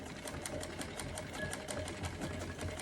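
Vintage Singer 15-88 sewing machine, nearly 90 years old, stitching faux leather pants, its needle thumping in a steady rapid rhythm, close and continuous throughout.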